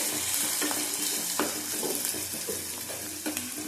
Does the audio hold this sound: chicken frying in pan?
yes